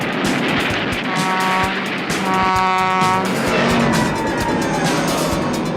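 A train rumbles loudly past nearby, steady and heavy, with a couple of sustained horn-like tones sounding over the noise.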